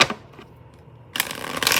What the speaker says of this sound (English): I'm going to do one more quick shuffle.